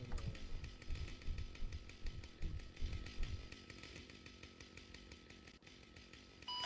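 A chainsaw runs steadily in the Arma 3 video game, its engine buzzing loudly and continuously with rhythmic revving pulses throughout, no voices over it.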